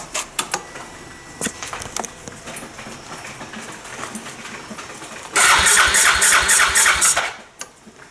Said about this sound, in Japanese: じゃあもう一回エンジンをかけてみます